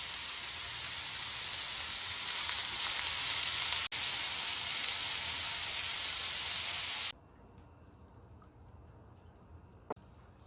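Vegetables stir-frying over medium-high heat in a pan give a loud, dense, steady sizzle for about seven seconds, then it cuts out to a low background hum with a faint click.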